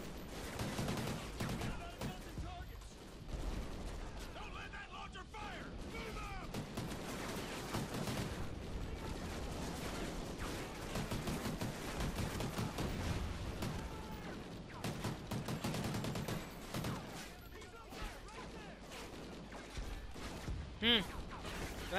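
Sustained automatic weapon fire from Call of Duty: Ghosts rattles on in dense, rapid bursts across the whole stretch, mixed with game effects and someone talking over it.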